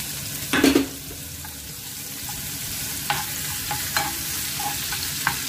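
Coconut pieces frying in a pan: a sharp sizzling burst as they go in, then a steady fry with occasional scraping stirs, no voices.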